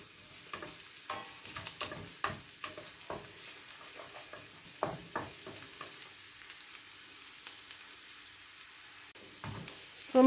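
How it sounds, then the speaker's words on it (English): Onions and garlic turning light golden brown fry in a pan for tuna fried rice, a soft, low sizzle punctuated by irregular close scrapes and knocks of stirring. "So my onions and garlic are turning light golden brown a bit."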